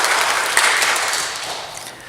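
A church congregation applauds at a year-end Sunday service. Dense, even clapping from many hands fills the room loudly, then gradually thins and fades toward the end.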